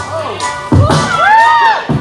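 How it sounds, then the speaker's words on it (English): A wrestling arena crowd rises and roars, a swell of cheering and shouting from many people that surges in after a thud, with a voice speaking over it. "now the crowd comes to their feet"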